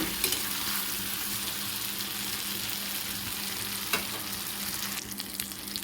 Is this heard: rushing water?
no